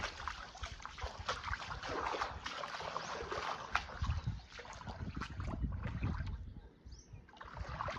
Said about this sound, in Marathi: आता पाईपला पाणी आलेले